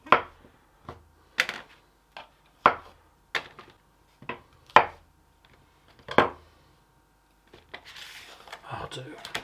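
Knife chopping through mushrooms on a board for a steak and ale pie, about eight sharp separate cuts at an uneven pace, close and fairly loud, then a softer rustle of the mushrooms being moved.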